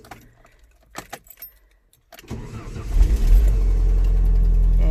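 A car engine cranks and catches after a jangle of keys, then settles into a loud, steady idle close by with no talking.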